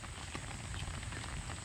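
Rain falls outdoors as a steady, even hiss of drops on surfaces, with no pauses.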